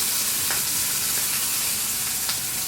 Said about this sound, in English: Now we're gonna sear from the fat side